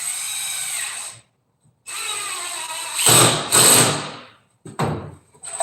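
Power drill drives 1 5/8 inch hex-head deck screws into wood while a coffin is built, in several loud whirring bursts separated by short silences, each ending as the screw seats.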